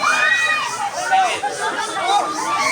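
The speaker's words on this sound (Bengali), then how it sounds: "ভিড়ও বাড়তেছে মেলার" Dense crowd chatter at a busy village fair during Eid, many overlapping voices blending into a steady, lively babble that holds throughout.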